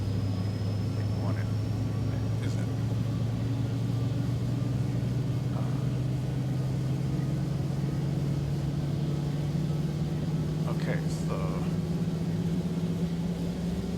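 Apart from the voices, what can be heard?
MU-2 Marquise turboprop engine starting up in X-Plane 11 video game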